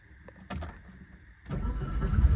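A 1986 Porsche 944 Turbo Cup is started up close: a few cranking clicks and stutters, then the engine catches and settles into a rising, rough idle rumble.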